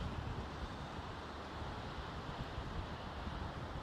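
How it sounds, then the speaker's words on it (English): Steady wind buffets the microphone with a constant low rumble and broadband rushing, no voices. "Crazy windy out here this morning."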